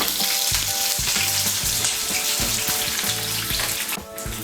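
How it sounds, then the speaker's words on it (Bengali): Chopped onion pieces fry and sizzle steadily in hot oil for an egg chilli dish, with a constant crackling hiss and soft stirring knocks, close and fairly loud throughout, no talking. "এগুলোকেও তেলের সঙ্গে মিশিয়ে নেব।"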